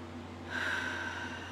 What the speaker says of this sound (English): Breathing deeply and easily.